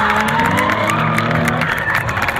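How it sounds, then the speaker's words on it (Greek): A crowd at a race event bursts into loud applause and cheering, dense clapping and whoops right up close, with a commentator's voice running through it. "δυνατό χειροκρότημα"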